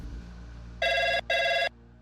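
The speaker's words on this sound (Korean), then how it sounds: "전화 한 통이 걸려왔어" A telephone rings in two loud, clear bursts after a short quiet hum, the second ring following closely on the first.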